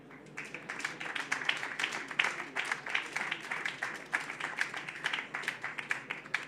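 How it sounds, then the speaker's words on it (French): An audience at a regional event on industry and energy transition applauds, moderate clapping from a modest crowd with some distinct individual claps, steady for several seconds. "pour leur donner de l'énergie, on va les applaudir"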